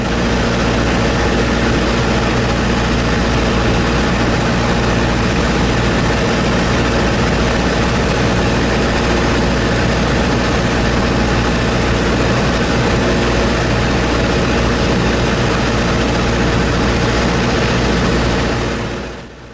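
A small aircraft's piston engine and propeller drone steadily during a solo cross-country flight on the downwind leg toward a runway, with a loud, constant cabin-level roar that fades slightly at the very end.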